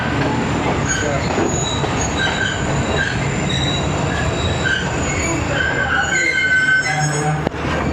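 The Tezgam passenger train pulls out of Wazirabad Junction, a steady rumble of wheels on rails with intermittent high metallic squeals and faint clicks, heard close from inside the carriage.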